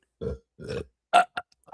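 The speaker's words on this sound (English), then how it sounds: "I burped loud as fuck" A loud, close burp comes as two long rumbling pulses followed by a few shorter, sharper bursts, with no talking.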